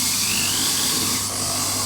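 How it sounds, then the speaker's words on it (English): Power screwdriver whining steadily while driving screws through trim and plasterboard on a partition wall, a continuous high motor buzz held for about two seconds, close and moderately loud. "We screw the trim and the plasterboard in position"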